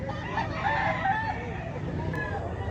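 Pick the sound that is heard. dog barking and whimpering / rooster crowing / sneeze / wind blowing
rooster crowing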